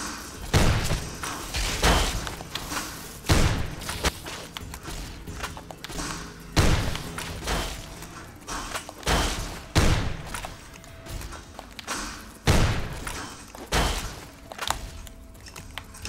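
Shotgun blasts in the Fallout: New Vegas game while fighting scorpions: loud, punchy booms repeat every second or two with brief mechanical clacks and scuffling between shots.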